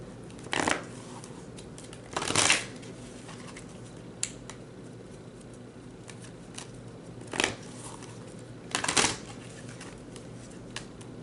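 Large paper tarot cards rattle and flutter in a fan's breeze, with short crisp bursts of papery rustling recurring irregularly, a few seconds apart against a quiet background.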